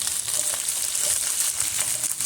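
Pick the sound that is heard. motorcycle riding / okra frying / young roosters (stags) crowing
okra frying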